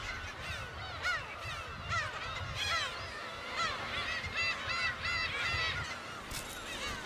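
Gull calls ring out again and again near a nest on Dokdo island, a busy overlapping flock of harsh, honking cries over steady wind or surf noise, with no voices.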